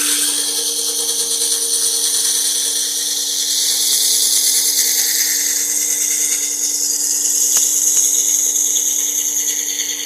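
A powered sharpening system grinds the edge of a chisel as it is rotated against the wheel, a steady high-pitched whirring and grinding held continuously at close range with no talk.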